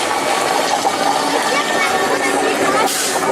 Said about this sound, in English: you can hear the gurgling sound effects here of Ocean Potion and see the red water